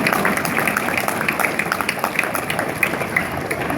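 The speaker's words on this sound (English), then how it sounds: "let's give a round of applause to your parents" Graduation audience at Saegertown High School applauding the graduates' parents, a moderate crowd clapping in a steady patter of overlapping hand claps at medium distance.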